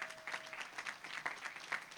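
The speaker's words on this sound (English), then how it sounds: "they deserve a round of applause as well" Audience applause at a high school graduation ceremony, a steady spread of hand claps across a large crowd lasting about two seconds, moderately loud with no talking over it.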